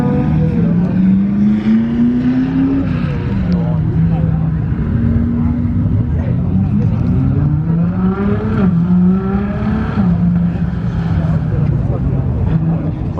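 A hypercar does a burnout at an airport event. The engine roars hard and without a break, its pitch rising and falling as the revs swing, with tire noise under it and a voice speaking nearby.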